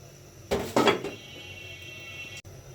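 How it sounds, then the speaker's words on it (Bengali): Dry flattened rice (chira) tipped into a hot frying pan with no oil, a brief rattling clatter of flakes hitting metal in two quick bursts, then a faint hiss and a single soft knock near the end. "এখন আমি চিড়াগুলো দিয়ে দিব একসঙ্গেই"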